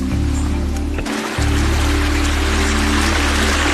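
A river in a Bulgarian forest rushes with a steady, loud broadband wash of flowing water, close by and continuous, with a low steady hum underneath and a brief dip in the lowest rumble partway through.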